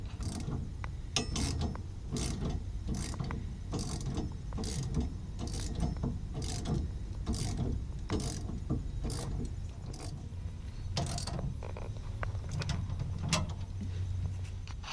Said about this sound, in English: now we will move on to the next step, which is lightly tightening this for now